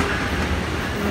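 Amtrak train passing close by, a loud, dense, continuous rumble of rolling wheels and rail noise with no break.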